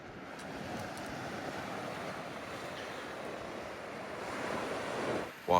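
Ocean surf washes steadily against the rocks at Castle Rock in Salem, a broad continuous roar with some wind buffeting the microphone, no voices.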